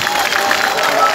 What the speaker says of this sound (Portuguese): uma salva de palmas para todos vocês que estão aqui